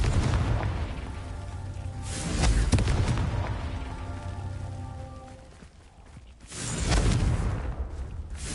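Confringo explosion spells in a Harry Potter video game, heavy booming blasts that swell around three seconds and again near seven seconds, with rumbling debris and crackle between them, no talk.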